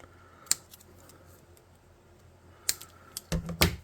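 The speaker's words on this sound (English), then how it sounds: "when I think it's centered, I'll cut off the excess." Scissors snipping off excess cardstock: a single crisp cut near the start, then a cluster of sharper snips and rustles toward the end, close and otherwise quiet.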